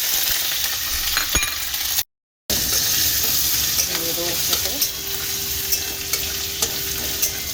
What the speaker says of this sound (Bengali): সাদা তেলের সাথে একটু ঘি মিশিয়ে নিয়েছি আর এখানে দেখো আদা গোটা গরম মশলা শুকনো লঙ্কা গোটা জিরে কাঁচা লঙ্কা সবটা দিয়ে দেবো একসাথে